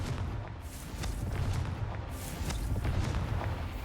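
A Confringo fire spell explodes in the Hogwarts Legacy video game, a loud, dense booming blast with rumbling thuds rolling on for several seconds.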